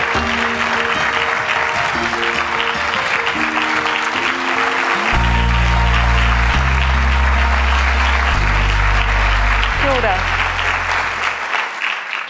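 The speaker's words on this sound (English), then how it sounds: "Nice round of applause." Audience applauding as Prime Minister Ardern is welcomed to the stage, a loud, steady wash of clapping throughout, with a deep musical tone starting partway and fading near the end.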